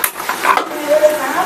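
Dry coconut being roasted in a pan while it is stirred; close, loud scraping and light rustling strokes over a soft sizzle in a brief burst.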